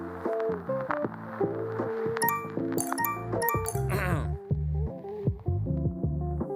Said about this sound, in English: Mobile phone and app notifications are now part of our everyday modern life.